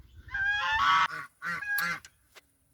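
Geese honk close by in several loud, nasal calls, a burst of overlapping honks followed by two more separate calls, then quiet.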